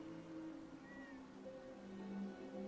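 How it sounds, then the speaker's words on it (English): A cat in the post-apocalyptic game Fallout 4 VR gives a single faint, drawn-out meow over a low, steady background hum. "Well, you got a cat."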